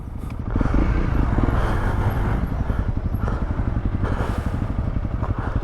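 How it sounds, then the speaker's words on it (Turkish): A motorcycle rides across a stretch of ground washed over by water, its engine thrumming loud and close with a steady rough pulse and scraping, clattering undertones throughout. "Orayı motorla geçelim dediler."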